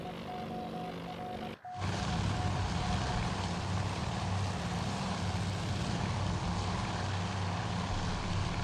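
Propeller engines of torpedo bombers droning steadily in the Task Force Admiral naval air combat game, a loud continuous hum that swells in abruptly after a brief quieter moment and then holds without talk.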